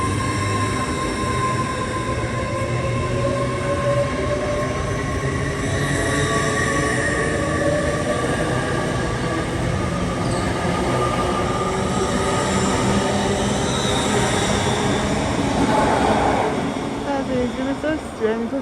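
A train rumbles through Doncaster station for a long stretch, with steady rolling noise, rail clatter and high wheel squeals rising near the end.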